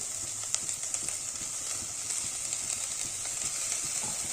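Fenugreek leaves, coriander and spices with minced mutton being sautéed in a pan, a constant bright sizzle broken by frequent light taps and scrapes of stirring, close and moderately loud.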